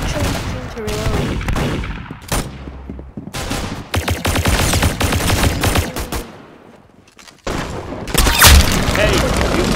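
Musket gunfire in the Arsenal video game, loud booming shots and rapid bursts of game gunfire, close and dense, with a brief lull before firing resumes; voices speak over the action.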